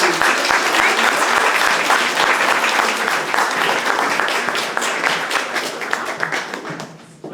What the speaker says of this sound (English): Please give a big round of applause to Gabrielle Grace Hogan.